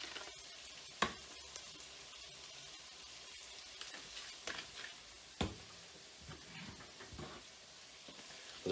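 Food sautés quietly in a pan at a breakfast cooking session, a soft, low sizzle broken by occasional clinks and scrapes of stirring.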